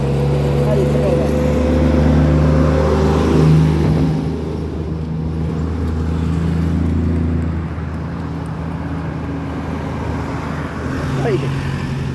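A motorcycle rides through the town of Aragarças, Goiás, its engine a loud steady drone with some revving and rising pitch, plus passing road noise and wind.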